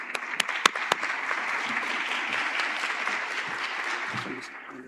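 Crowd applause at a youth summit as a presenter is invited up: dense, steady clapping from many hands with a few sharp, close claps at the start, tapering slightly at the end.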